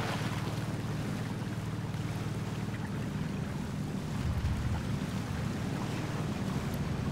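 A Ford Ranger pickup fords a river in the MudRunner American Wilds off-road game, a steady low engine drone with rushing water and splashing throughout, swelling slightly louder toward the end, with no talking.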